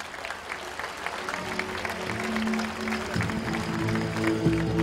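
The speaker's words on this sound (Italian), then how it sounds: "Ancora applausi." Steady applause from a crowd fills the closing ceremony of the Magna Graecia Film Festival, continuous and building slightly, with faint voices beneath.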